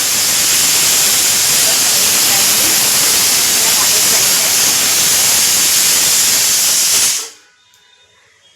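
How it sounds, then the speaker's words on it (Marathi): Pressure cooker on a home kitchen stove releasing a loud, continuous steam hiss for about seven seconds before cutting off abruptly into near silence. "कुकर लावला कारण मला बाहेर जायचं आहे."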